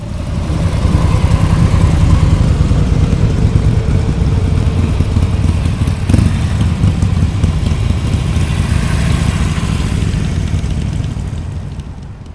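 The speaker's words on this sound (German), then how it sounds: "Und der Motor hört sich schon mal ganz ordentlich an." A TGB Blade 1000 V2 ATV's two-cylinder, 84-horsepower engine runs steadily at a loud, throaty idle, a continuous low rumble with a slight dip partway through and no voices.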